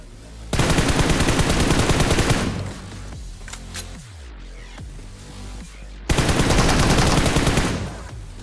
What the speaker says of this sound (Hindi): फिर मैं उस पर गोलियाँ चलाता हूँ